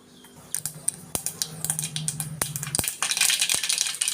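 Tempering seeds for a crab curry splutter in hot oil: scattered sharp pops and crackles, irregular and close, building into a denser hiss of spluttering toward the end.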